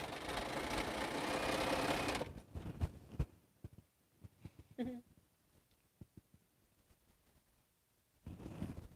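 Sewing machine stitching, a dense whirring run for about two seconds, then quiet with scattered clicks and taps, and a short burst of stitching returning at the end.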